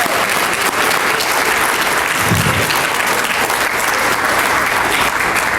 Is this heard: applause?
yes